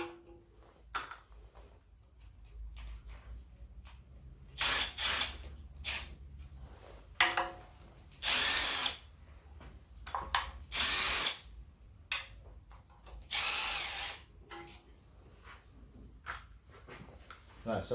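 Power tool running in several bursts of a few seconds each to undo sump bolts on a Land Rover Defender 2.4/2.2 TDCI engine, close and loud, with short pauses and someone talking between them.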